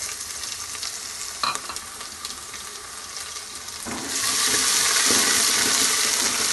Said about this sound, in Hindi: अदरक लहसुन की भुनाई हमने कर ली है